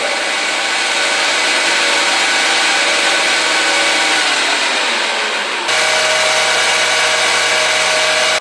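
A small metalworking lathe spins steadily while trimming .223 brass cartridge cases, a constant close mechanical whir and cutting hiss that shifts in tone briefly before evening out.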